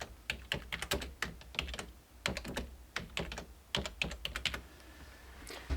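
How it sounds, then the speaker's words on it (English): Computer keyboard typing while entering text in laser engraving software: bursts of quick, crisp keystrokes in uneven runs, close and clear, with short pauses between words and no talking. "let's go ahead and click the text tool and go ahead and type in something here"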